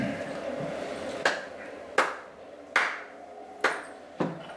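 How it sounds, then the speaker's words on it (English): Five sharp claps ring out one at a time, spaced about a second apart, in a dark, echoing tabletop-fantasy scene, each crack bright and clear over a low ambient hum. "You guys all hear the clapping"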